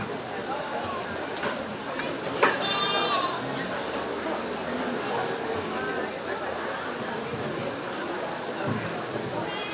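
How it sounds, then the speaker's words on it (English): Goat bleats at a 4-H dairy goat show at a county fair, a brief clear bleat near the middle over steady crowd chatter and announcer talk in a busy barn. "We need Katie Anderson on deck with her dairy goat for senior yearlings 12 months and under 24 months"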